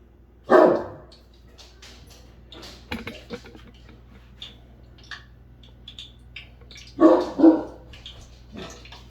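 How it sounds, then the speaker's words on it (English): Two loud dog barks, one early and a double bark later, close by, with quiet background noise in between. "Who you barking at?"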